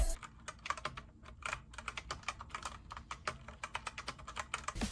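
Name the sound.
typing on mechanical keyboard with red switches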